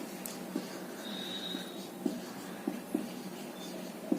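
Handwriting during a Hindi grammar lesson on Sanskrit-derived words: soft, faint scratching with light taps at irregular intervals, each stroke close by and quiet against a low background hiss, with no talking.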